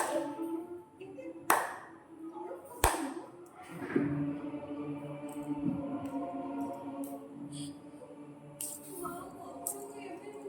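Hand clapping in an Odia household setting, a few sharp separate claps standing out over background talk and household noise, with no steady rhythm.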